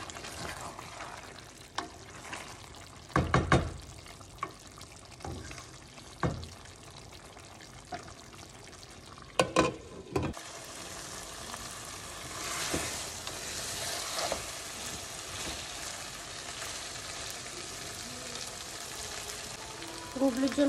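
Meat and potatoes cook in a pan, the meat releasing its juices, producing a steady low sizzle and bubbling with occasional clattering bursts of utensil scrapes and stirring.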